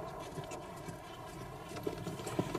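A mountain guide's horse walking on a mountain trail near the equator, hooves clip-clopping in an irregular rhythm under a steady wind-like background rumble.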